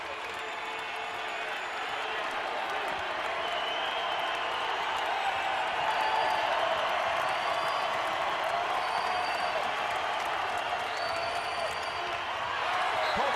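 Basketball arena crowd at a college game against Gonzaga cheering and applauding after a three-pointer, a steady broad roar with scattered clapping, while a commentator talks over it.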